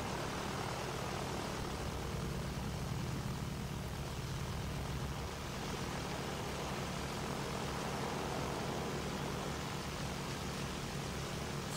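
Steady propeller-plane engine drone from a World War I aircraft in the Battlefield 1 video game, a continuous broadband roar that holds throughout with no talk over it.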